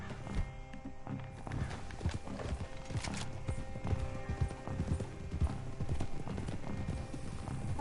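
Horse hooves clip-clop in the video game Red Dead Redemption 2, a brisk, close, continuous rhythm of several hoofbeats, with a brief neigh and some background game sound.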